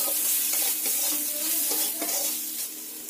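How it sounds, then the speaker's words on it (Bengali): Ground spices with turmeric fry in a pan for an egg and potato curry, giving a bright, close sizzle broken by several scraping stir strokes, with no talking. "মশলাগুলো দিয়ে খুব ভালো করে কষিয়ে নিতে হবে।"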